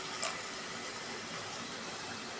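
A cup of water is poured into a pan of ivy gourd masala cooking with turmeric, salt and chili powder, giving a steady, close splashing gush that runs the whole time with no talking.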